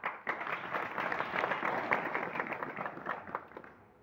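Faint, dense clapping rises from a lecture audience in Hingoli, a soft continuous patter that sounds distant and tapers off at the end.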